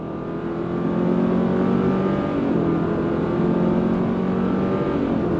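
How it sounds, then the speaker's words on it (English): Flat-four naturally aspirated engine of a 2024 Subaru Crosstrek Wilderness with a CVT, heard from inside while accelerating from a slow roll; a steady, loud engine drone climbs in pitch with smooth simulated shift steps, and no one speaks. "The noise that you heard is the actual flat 4 naturally aspirated engine."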